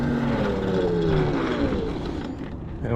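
A WindOne RM7 electric unicycle motor runs at full throttle in wheelie mode, giving a loud whirring whine that dips in pitch and then eases off near the end.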